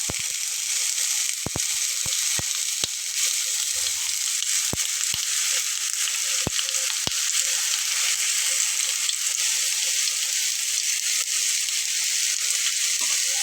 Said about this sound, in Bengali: তেলটা গরম হয়ে গেলে আমি এখানে বেগুনগুলো এভাবে বসিয়ে দেবো